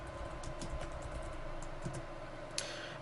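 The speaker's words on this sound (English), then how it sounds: "just type in the name that you want" Keys clatter steadily on a computer keyboard as a fixture name is typed into DMX lighting control software, soft irregular taps running throughout with one sharper click near the end.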